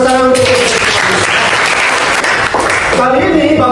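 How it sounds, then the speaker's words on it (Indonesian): A classroom of students claps loudly for a classmate in a school lesson, steady dense applause for a few seconds, with a teacher's voice briefly audible at the start and end. "Oke, berikan tepuk tangan."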